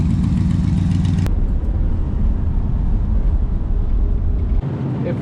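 A 1974 Corvette Stingray with side pipes runs steadily, its low rumbling engine loud and close throughout, with a brief sharp click early on and a slight drop in the low rumble near the end.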